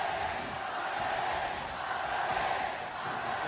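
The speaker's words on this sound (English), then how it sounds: "Feel the crowd only getting louder." A large esports crowd at the League of Legends World Championship 2017 quarterfinals roars continuously in a dense wash of cheering and shouting, loud and sustained throughout.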